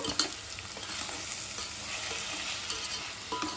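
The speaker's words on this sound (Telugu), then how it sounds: "ఉప్పు కారం అంతా మంచిగా పట్టే వరకు కలుపుకుని కాసేపు మగ్గనిద్దాము." Cabbage sizzles in a pan while being stirred with salt and chili, a soft, steady frying hiss with faint scraping stir strokes, quiet and close with no talk.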